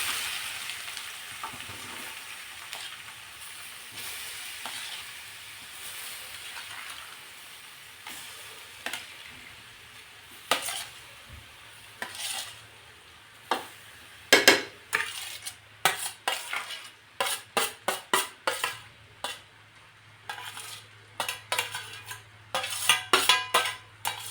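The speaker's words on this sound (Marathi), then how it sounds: "आता हे थोडंसं नाही लगेचच आपण हा जे बारीक केलेलं गाजर आहे ते या तुपामध्ये टाकून घेणार आहोत" Grated carrot frying in ghee in a pan, a soft continuous sizzle under repeated scraping and clinking strokes of a spoon stirring against the metal, growing louder and more rhythmic as stirring picks up.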